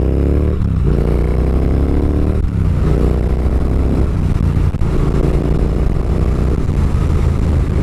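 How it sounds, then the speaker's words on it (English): A Triumph Thruxton motorcycle engine runs steadily at idle, loud and close, with a low throbbing rumble and a few small swells in revs across the stretch. "Plus you hear the engine here."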